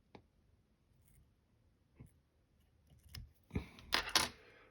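Small scissors snip thread at a fly-tying vise: faint isolated clicks, then a sharper cluster of close snips and metallic rustle near the end, with no talking.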